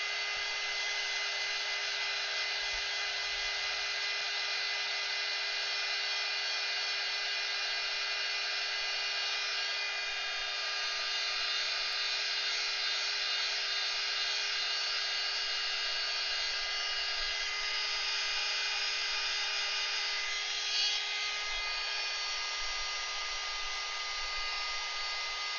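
A hair dryer drying Caran d'Ache NeoColor pigment on paper, a steady high whine and rush of air held at constant loudness throughout, with no talking.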